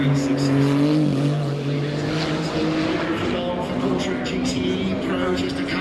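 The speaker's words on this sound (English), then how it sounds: "see it flying down the hill with the 911 GT2 RS, the Manthey Racing performance kit, Kevin Estre at the wheel" Porsche 911 GT2 RS with the Manthey Racing performance kit storming down the hill at the Goodwood Festival of Speed, its engine note loud and sweeping as it passes, with an announcer talking throughout.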